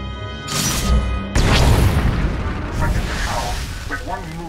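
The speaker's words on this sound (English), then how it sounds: "our flux cannons fire and an Imperial capital ship is disintegrated" A deep booming blast of video game flux cannons followed by a heavy rumbling explosion of a capital ship, loud and close, with a voice speaking faintly underneath as it fades.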